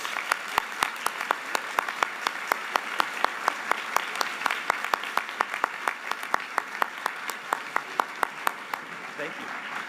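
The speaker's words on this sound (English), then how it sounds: "Let's give these gentlemen a round of applause." Sustained applause from an awards day audience honouring senior student athletes, dense clapping with sharp individual claps standing out throughout, steady for about ten seconds.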